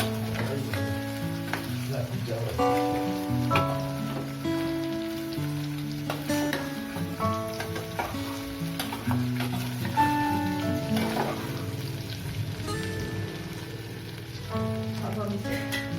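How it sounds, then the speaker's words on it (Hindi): Green chillies sizzle as they go into frying taro root (arbi) in a pan, a steady rain-like crackle running beneath prominent background music throughout. "अब हम इसमें हरी मिर्च डाल देंगे।"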